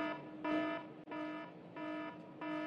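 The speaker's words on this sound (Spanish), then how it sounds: "Cuando suena esa alarma nos recuerda que queda un minuto." A one-minute warning alarm at a national cocktail competition sounds as a repeating electronic buzzer tone in four evenly spaced bursts of about half a second, loud and close with brief gaps between, no talk over it.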